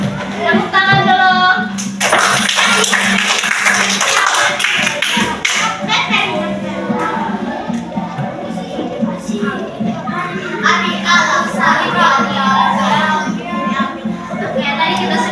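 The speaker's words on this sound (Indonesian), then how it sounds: "Tepuk tangan dulu." A classroom group of students claps together at the teacher's prompt, with a burst of sustained, loud applause mixed with children's voices and chatter, while a teacher speaks over it.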